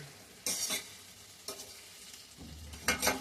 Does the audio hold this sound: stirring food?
yes